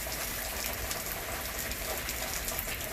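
Rain falls in sunshine as a continuous, even hiss of drops on surfaces, moderately loud and close, with no voices.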